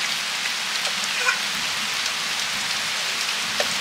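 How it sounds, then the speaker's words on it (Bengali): Steady rain pours outside a rural home on a stormy day, an even close hiss with a few sharper drips landing nearby. "বৃষ্টিটা শুরু হয়ে গেল"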